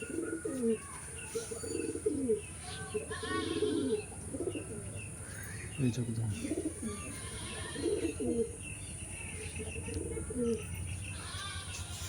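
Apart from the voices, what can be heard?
pigeon cooing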